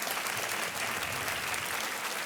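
A television game show studio audience applauds steadily, a broad continuous wash of many hands clapping at an even, moderate level with no voices over it.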